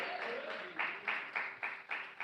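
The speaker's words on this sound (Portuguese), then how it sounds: "Palmas de vitória para Jesus de Nazaré." Church congregation clapping together during a sermon, a steady rhythmic beat of hand claps that grows sharper and more accented toward the end, moderately near and filling the room.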